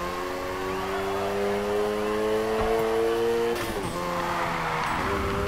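Car drifting in Need for Speed Heat, with the engine holding a steady, loud droning rev that shifts pitch partway through, plus a brief sharp transient as the slide continues, no talk.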